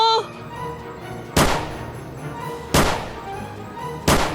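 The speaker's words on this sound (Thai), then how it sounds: "ไอ้ต้นไม้มันกำลังยิงลูกเขียวๆที่เราเจออะ" A tree in a zombie video game fires green balls, giving three sharp, punchy thumps at regular intervals over quieter game background sounds.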